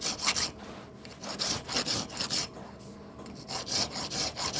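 A hand file rasps back and forth over a small metal traction engine cylinder drain valve part, close and fairly quiet, in a steady rhythm of about two strokes per second with no talking.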